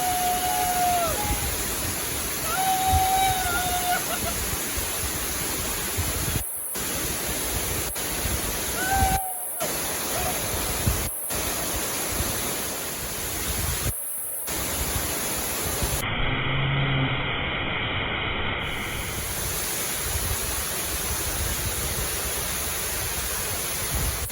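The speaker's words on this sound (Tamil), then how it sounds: "இந்த தண்ணி கொட்டுற அழகாக பாருங்கள்" Muthyalamaduvu waterfall in Karnataka pours with a constant dense hiss of falling water, loud and unbroken, with brief whistle-like tones and short dropouts partway through.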